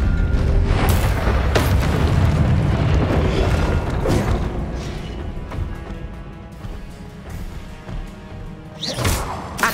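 Spell-casting blasts and booms from combat in the video game Hogwarts Legacy, a dense run of loud impacts and crashes with sharp hits near the start and end, no speech over them.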